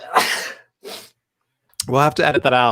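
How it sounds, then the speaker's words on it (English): A single close, loud sneeze bursts out at the start, with a softer follow-up breath, before a person speaks. "I'm about to sneeze"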